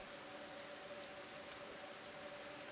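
Steady rain falling in the video game Kenshi, a continuous soft hiss with no distinct drops standing out, faint and constant throughout.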